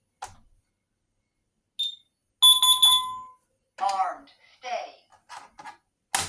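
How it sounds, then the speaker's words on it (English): An ADT SafeWatch Pro 3000 alarm keypad gives a few sharp electronic beeps in short bursts as the system is set to stay mode, with a person speaking briefly in between. "it beeps when you're leaving, just to remind everyone to get out of the house"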